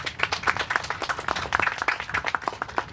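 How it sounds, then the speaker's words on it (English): An audience claps at a salon and boutique ribbon cutting in Plainfield, individual hand claps audible in a quick, uneven rhythm, fairly close and unaccompanied by talk. "Can we keep clapping just for a second?"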